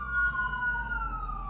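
An emergency vehicle siren wails in a steady, slowly falling tone, moderately loud and heard alone for a brief moment.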